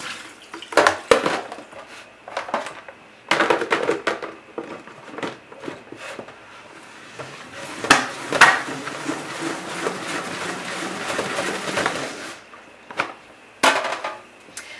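Water tipped out of a plastic salad spinner holding wet silk hankies, heard as intermittent splashes and hollow plastic knocks and rattles in a quiet room, with no talking.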